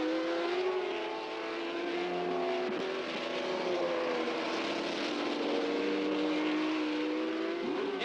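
A 1967 Grand Prix race car roars past on a wet track at a Canadian Grand Prix, its loud engine note rising and falling in pitch throughout.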